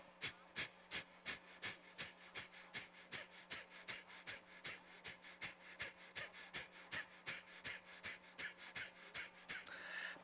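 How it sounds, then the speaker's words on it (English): A long, even series of short, sharp exhales in a diaphragm breathing exercise, around two puffs per second, close and steady, with a faint low hum underneath. "I'm going to inhale halfway. And I'm going to make short exhales."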